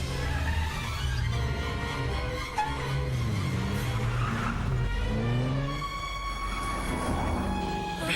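Auto rickshaw in a Hindi-dubbed South Indian action film, a loud engine drone that rises and falls in pitch as the vehicle turns and pulls away, with tire-squeal tones and dramatic music layered over it.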